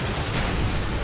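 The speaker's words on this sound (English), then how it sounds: "Oh, it's a grenade launcher." Grenade launcher fire in Call of Duty: Modern Warfare 3, a loud, dense, continuous explosive roar of blasts and rumble that fills the moment with no voices over it.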